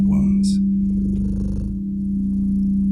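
A domestic cat purrs close and steady, a continuous low rumbling drone that runs throughout, with a brief voice near the start.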